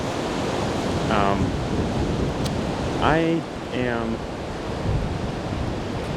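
Strong gusting wind roars as a steady broadband wash behind a snowy logging road at about 30 to 40 mph with gusts to 55, with a voice speaking briefly over it.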